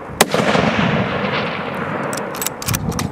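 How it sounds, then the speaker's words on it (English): Rifle shots fired at a deer during a hunt, one loud sharp crack followed by a rolling echo, then several quicker cracks near the end, outdoors and close. "At the first shots from the boys"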